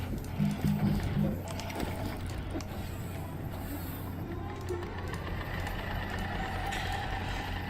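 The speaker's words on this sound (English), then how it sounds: "large printer." A large printer in the video game Astroneer runs with a steady mechanical whirring and rattling hum that continues evenly from start to finish.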